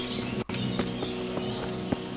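Horse hooves clip-clopping in Kingdom Come: Deliverance, a steady, moderately paced series of soft, close thuds over a faint ambient background with no talk.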